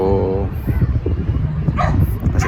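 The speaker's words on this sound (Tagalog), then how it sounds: "Siguro naamoy tayo, nakita tayo ng aso. Kaya tumatahol." A dog barks a few times in the middle distance near a riverbank while a person keeps talking over it.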